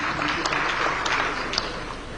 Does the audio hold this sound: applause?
yes